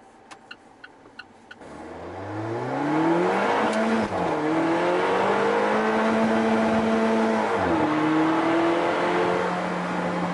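An Alfa Romeo 4C turbo sports car accelerates hard from near idle, its engine note rising in pitch through a gear change and surging on as the turbo builds, loud and close from inside the cabin.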